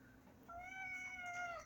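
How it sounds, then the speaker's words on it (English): A cat gives one drawn-out meow at close range, rising and then trailing off, in a quiet room with no voices. "Our cat had a kitten."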